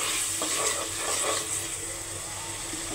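Ginger, garlic and cumin paste frying in a pan with salt, giving a close, steady sizzle with light stirring scrapes and no voices.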